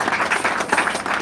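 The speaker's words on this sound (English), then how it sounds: "Please clap for Papa." Brief burst of crowd applause for an honoured guest at a local government gathering, dense clapping that stays steady and close for about a second with no talk over it.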